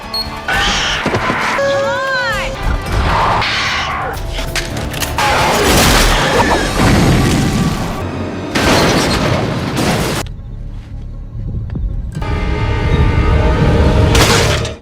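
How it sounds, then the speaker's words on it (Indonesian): A loud gunshot from a vampire hunter film, set in a dense, booming soundtrack of bursts and crashes with a whistling tone early on. "John pun tanpa ragu menembak Una tepat di kepalanya"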